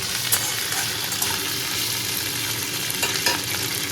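Potato chips frying in hot oil for a wedding-style snack, a steady dense sizzle with occasional stirring clatter, close and continuous without talk.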